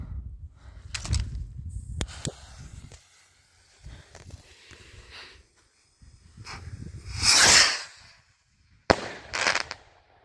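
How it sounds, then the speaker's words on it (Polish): Crackling firework rockets (Dino PXR218 Blast) pop and crackle at a distance in scattered bursts, with a sharp hissing crackle in the middle and quiet gaps between. "Delikatny crackling. Wam powiem, że nawet głośne są."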